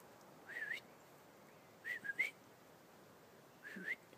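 Three short, thin whistle attempts, each a quick pair of faint rising chirps, separated by quiet pauses over low background hiss.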